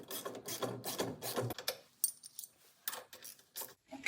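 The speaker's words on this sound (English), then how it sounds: "So first we're going to use a regular ratchet and snug those all up" Regular ratchet snugging up the bolts of a steering gearbox stabilizer on a Dodge truck, giving a run of close, quick metallic clicks with short pauses, and no talking.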